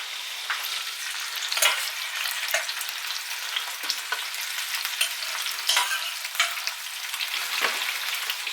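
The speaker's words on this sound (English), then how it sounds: "I'm just going to drop in the potatoes now" Potatoes sizzling in hot beef roasting fat, a loud, constant crackling hiss up close, punctuated by recurring sharper spatters and scraping clatters, with no talking.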